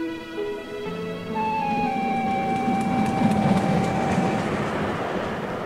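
Train in motion heard from inside the rear carriage, as a radio drama sound effect: a steady rumbling roll with a rising, sustained whistle-like tone across the run, no voices.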